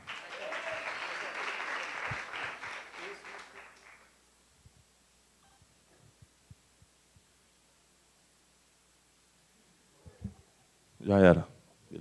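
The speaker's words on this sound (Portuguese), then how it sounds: "Salva de palma" Audience applause at a youth church gathering rises in a dense burst for about four seconds, then fades into near silence broken by a few isolated claps and a short loud voice near the end.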